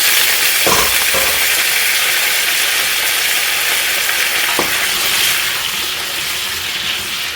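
Potatoes frying in a hot pan with canola oil, a steady loud sizzle that holds through the whole stretch with a couple of brief stirring knocks and no talk.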